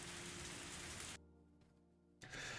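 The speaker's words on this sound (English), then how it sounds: "unfortunately, the rain is still going on." Steady rain falls in the Higurashi no Naku Koro ni game, a broad hiss that cuts off for about a second behind a soft tonal pad and then returns.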